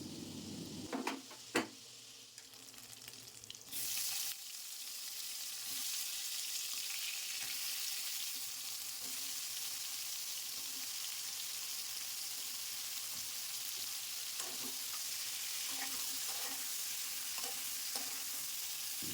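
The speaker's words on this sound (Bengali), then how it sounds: "ওই চিংড়ি মাছ ভাজা তেলের মধ্যে দিয়ে দেবো আগে থেকে কেটে রাখা ঝিঙে" Sliced ridge gourd drops into hot oil left from frying shrimp. A few clattering knocks come first, then a dense, even sizzle holds steady for a long stretch, with occasional faint stirring taps.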